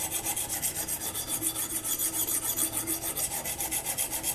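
Machete blade sharpened on a Blitz sharpening stone: steady rhythmic rasping strokes, about four or five each second, scraping evenly at close range with no voices.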